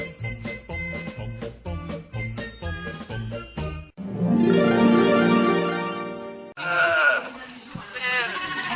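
A mouflon, a wild sheep with large spiral horns, lets out a long, loud wavering bleat in the middle of the clip, preceded by rhythmic music and followed by a rougher, noisier bleat.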